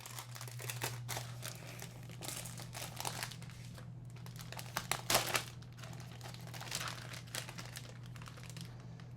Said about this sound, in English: we're gonna go ahead and remove the Legion rag paper